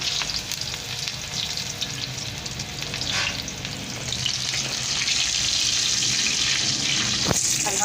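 Chopped onion sizzles hard in hot oil for a dal baghar, a dense steady frying hiss with occasional stirring clinks, growing louder toward the end before a brief sharp knock.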